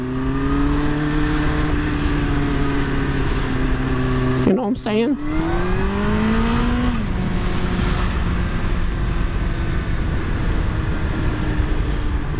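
Engines revving late at night, a rising and falling motor roar that swells past nearby, with someone talking over it throughout.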